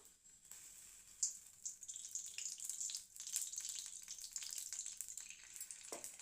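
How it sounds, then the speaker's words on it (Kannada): Oil heats in a pan on a gas stove while a home cook makes palak rice. A steady, close sizzling hiss runs throughout, with light stirring clinks and a small burst near the end. "ಗ್ಯಾಸ್ ಹಚ್ಕೊಂಡು ಅದೇ ಬಾಣಲಿಗೆ ಸ್ವಲ್ಪ ಎಣ್ಣೆ ಹಾಕಬೇಕು."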